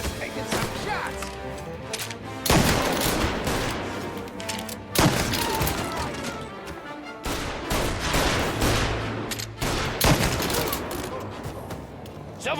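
Bursts of gunfire from the video game Mafia Definitive Edition, loud and dense volleys repeating every few seconds over a constant background rumble, with speech faintly mixed in.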